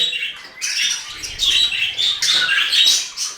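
Pet budgerigars in a home cage chirp and twitter in quick, overlapping bursts, fairly close and steady with no talk, a low patter of movement underneath.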